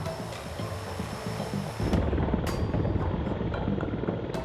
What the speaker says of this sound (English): Aerial firefighting is equally risky and much more expensive.